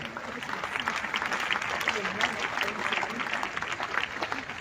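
A church congregation applauds for the Lord, sustained dense clapping from a crowd continuing steadily throughout, with voices mixed in.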